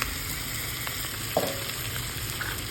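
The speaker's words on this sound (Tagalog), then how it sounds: "Sotay mo lang yan, sotay." Garlic and onion sautéing in a pan for pork menudo, a steady close sizzle with a faint stir or clink partway through, no talking.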